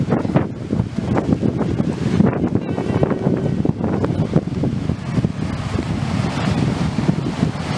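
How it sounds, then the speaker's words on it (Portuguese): Rough, choppy sea waves surge and break at a beach under gusting wind, a dense, loud, steady roar of surf with wind buffeting the microphone throughout. "Agora esse mar daqui é mar pra surfista."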